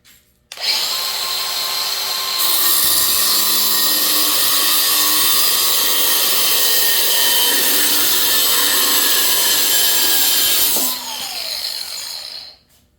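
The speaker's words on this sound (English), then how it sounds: "Take the grinder, just kind of notch down like, I don't know, maybe 1/3 of the way through the thickness" A handheld angle grinder notches a metal bar partway through its thickness, spinning up sharply and then holding a loud, steady high-pitched whine for about ten seconds before dropping in pitch and winding down.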